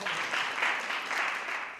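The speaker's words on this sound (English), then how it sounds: "we'll keep the clapping going" An audience at a Boston Acquisition Fund announcement event claps in steady, sustained applause of moderate loudness. The clapping carries evenly through the short stretch with no voices over it.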